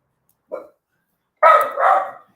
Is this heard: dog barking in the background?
yes